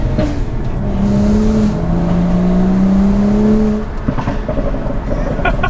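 A BMW E82 135i with full bolt-on modifications, about 370 hp, accelerates hard on hill roads at Mount Dandenong. The engine note climbs loud and close, holds through a sustained pull, then eases off near the end.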